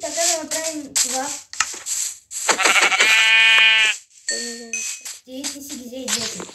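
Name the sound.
sheep bleating in Minecraft video game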